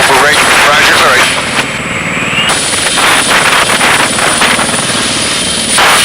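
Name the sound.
Griffin helicopter engine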